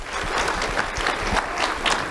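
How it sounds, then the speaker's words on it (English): Audience clapping at a sheriff's office community awards ceremony, a moderate uneven patter of hands with some nearer individual claps, no voices over it. "Round of applause for Bismarck."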